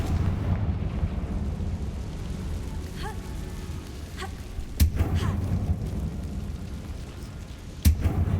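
A Confringo fire spell detonating in Hogwarts Legacy inside a tomb, two sharp booming blasts over a rumbling ambient bed, with a faint crackle between them.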